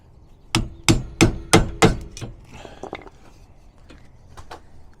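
Five loud, evenly spaced hammer blows ring out on a stubborn leaf spring shackle bolt of a 5th wheel RV, followed by quieter clinks and shuffling of work.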